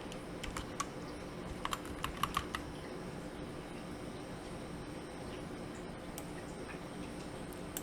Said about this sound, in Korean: 상단 패널에서 삽입의 텍스트 상자를 선택해서 리전 토탈이라고 입력해 줍니다.